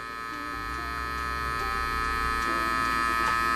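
Electric hair clippers buzz steadily and close up while fading hair during a taper fade, a constant motor drone that grows slightly louder, with no talking over it.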